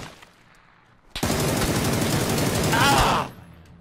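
Sustained automatic gunfire from a test-fired weapon with a compensator and angled grip in PUBG: after a quiet second, a dense, loud burst of rapid shots rolls on for about two seconds, then cuts off.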